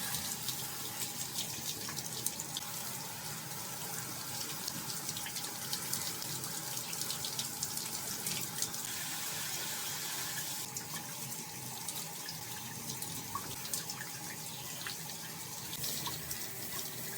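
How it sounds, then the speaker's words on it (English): A tap runs continuously while dyed pink rainbow hair is rinsed under it, a steady faint hiss of splashing water with no talking. "you want to try to rinse out the dark colors first"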